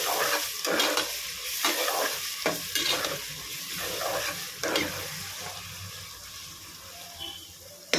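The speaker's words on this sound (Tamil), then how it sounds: "இப்போ நல்லா வெங்காயம் வதங்குதாங்கன்னு பார்த்துக்கலாம்." Onions sauté in a pan for mutton biryani, making a steady sizzle broken by repeated scraping stirs of a spoon against the pan, close and continuous throughout.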